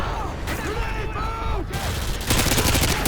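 Heavy gunfire barrage in Call of Duty: Modern Warfare 2, dense overlapping shots rattling continuously and growing louder near the end, with excited voices talking over the firing.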